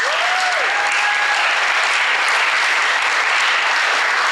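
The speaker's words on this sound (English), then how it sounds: "Let's give her a round of applause." Sustained audience applause at a school senior speeches event, welcoming the senior class president with a dense, steady roar of clapping that holds loud and even throughout, without talk.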